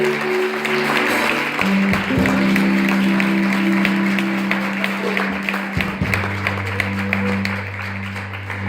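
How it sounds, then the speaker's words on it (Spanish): A church congregation applauds in praise during a worship service, the clapping spread thin over sustained keyboard chords that shift in pitch throughout. "Dale un aplauso al Rey de Gloria"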